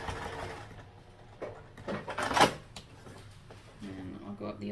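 A sewing machine stitches across a seam, reverses for a backstitch and runs across again in short bursts, heard close, with brief clunks and a person talking over it.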